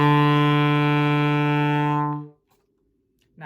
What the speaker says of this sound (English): So low B should sound something like this.